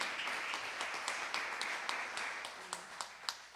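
Quiet congregational applause in a church, a thin, fairly distant patter of clapping with a few sharper individual claps standing out in a loose rhythm toward the end.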